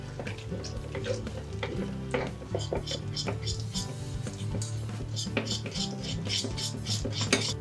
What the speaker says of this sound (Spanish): vamos incorporando poco a poco la leche y removiendo